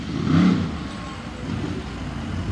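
A big Ford monster truck from Maryland roars through a freestyle jump off a steep ramp, its engine swelling to a loud rev before settling into a steady distant drone.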